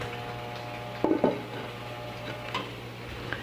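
A lid set onto a pot of simmering cozido stew gives two quick metallic clanks close by over a steady kitchen hum, with a faint tap a moment later.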